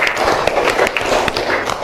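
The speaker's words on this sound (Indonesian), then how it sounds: "Tepuk tangan untuk kelompok 3" Classroom applause at a junior high school lesson, a dense patter of many hands clapping together steadily for the whole stretch, fairly loud and close, with a few sharper taps standing out and a faint murmur of voices underneath.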